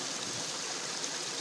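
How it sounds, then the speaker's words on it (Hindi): Natural spring water flowing out of the mountains in the Margalla Hills, a faint, steady rushing hiss like a small stream, continuous and fairly distant with no talk. "यहाँ पहाड़ों से कुदरती तौर पे ये चश्मा निकल रहा है"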